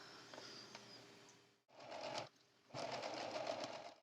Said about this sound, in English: and then go ahead and sew